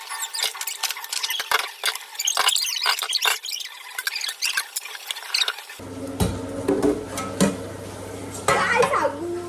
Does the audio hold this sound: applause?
no